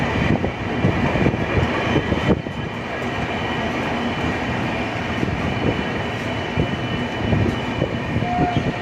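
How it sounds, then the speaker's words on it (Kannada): The Karnataka Sampark Kranti superfast express rumbles past close by near Yesvantpur Junction, Bengaluru, a loud continuous roar of wheels on rails with a few sharp clanks along the way. "ಯಾವ ಟ್ರೈನ್ ಇದು? Karnataka Sampark Kranti super fast express"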